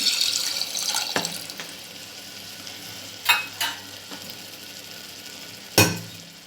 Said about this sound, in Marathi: एक वाटी मी पाणी टाकून घेते